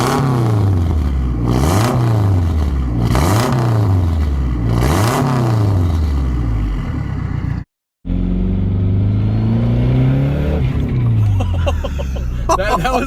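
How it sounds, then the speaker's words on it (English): A turbocharged K-swap Honda engine revs hard in repeated throttle blips, each rising and falling with a whistling turbo spool, then a brief cut and a lower, steadier engine drone with a few more climbs. "That was like a quarter throttle. It just spools up and kicks in like crazy."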